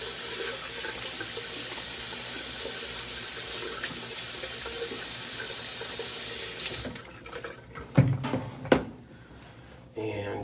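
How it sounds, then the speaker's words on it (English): A bathroom tap runs steadily as stubble is rinsed off after shaving, a loud even hiss that cuts off partway through, followed by a few knocks and clatters at the sink. "Rinse this off real quick."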